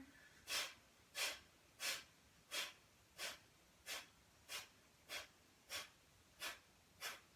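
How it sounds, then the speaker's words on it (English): Bellows breathing during a yoga session: a steady run of about eleven forceful, evenly spaced nasal exhalations, close and fairly loud, with no talking. "bellows breathing here."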